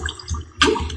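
Splashing water in a Minecraft-style video game, short watery bursts and gurgles with one louder splash partway through.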